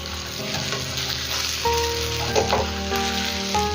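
Brinjals and green chillies for masala gutti vankaya fry frying in a pan, a steady sizzle with stirring scrapes and light clinks of a spatula turning them.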